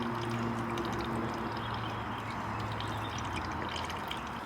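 Coolant pours steadily through a funnel into a kei truck's cooling system during a flush and refill, a continuous close liquid gurgle and splash with a faint low hum early on.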